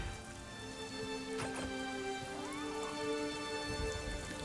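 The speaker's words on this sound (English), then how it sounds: "Rain." Steady patter of rain on a surface in the video game Star Wars Outlaws, under a layer of tonal background music, soft and continuous throughout.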